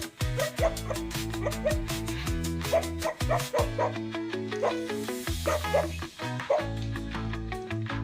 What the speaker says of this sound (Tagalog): may umaawit na aso